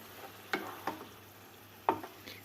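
Spoon stirring bulgur and spinach in a pan, three or four distinct scraping strokes spaced irregularly over a quiet background, close and fairly soft.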